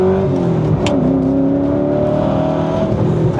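A 550-horsepower sports car drives on an open road, its engine a loud, steady interior drone with shifting pitch and no talking.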